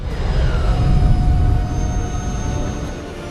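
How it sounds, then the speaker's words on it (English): Low, weighty rocket rumble blended with a higher jet whine for the Valkyrie shuttle descending to Pandora in the 2009 film Avatar, a steady loud roar that swells then eases slightly, with a faint high tone running across. "We sort of built the rocket rumble to be this big, low-end, weighty component, and then the jet component, sort of a high-frequency component"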